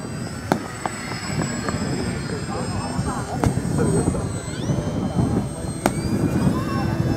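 Engines of model aircraft, including a replica Japanese Zero, flying together in a circle at a model airfield, a steady buzzing drone that rises and falls slightly as they pass, with occasional sharp clicks and faint voices nearby.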